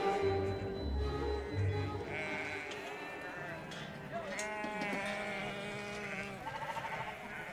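Sheep bleat repeatedly at a livestock market, several overlapping cries near and far over a constant crowded barn ambience, with no talk.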